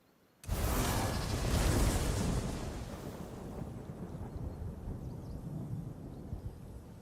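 Stormy weather summoned by a weather totem in a video game: a sudden loud broadband rumble bursts in after a short silence, peaks early and then settles into a sustained roaring wash, like thunder and storm noise.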